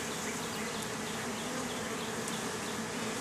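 Bees buzz in a continuous, dense hum during a beehive inspection, with a few individual insects droning closer past the microphone.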